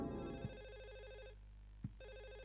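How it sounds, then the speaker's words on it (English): Telephone ringing in the horror video game Silent Hill 4: The Room, a faint electronic ring with a repeating trill pattern over a low hum, broken by soft thumps. "There's a phone ringing somewhere."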